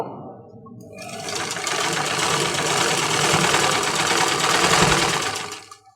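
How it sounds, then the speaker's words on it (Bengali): An electric sewing machine stitching a baby frock, a loud continuous rapid mechanical whirring that starts after a brief pause, runs steadily for several seconds and stops abruptly. "তো টোটালটাই আমি সেলাই করে নিয়েছি"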